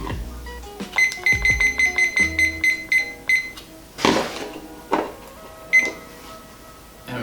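A stovetop kitchen timer set while steaming Korean rice beeps in a rapid run of a dozen or so bright, evenly spaced tones, then falls quiet apart from scattered clatter and a few thuds nearby.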